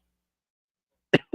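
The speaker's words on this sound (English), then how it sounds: "Excuse me, I didn't mean to cough." A single short cough from a person indoors, an abrupt sharp burst followed by a quieter second catch, close by, after near silence.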